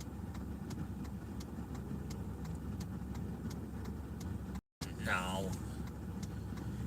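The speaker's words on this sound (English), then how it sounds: "It's someone in an old police car." An old, roughly stripped police car from a video game rolls up, its engine holding a steady, mid-pitched hum throughout, with one brief spoken word near the end.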